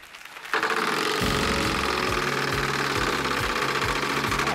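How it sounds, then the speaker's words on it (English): A Wheel of Fortune game-show wheel spinning on the studio set, a loud steady rush with a regular ticking of clicks that slows gradually as the wheel loses speed. "Spin that wheel for us."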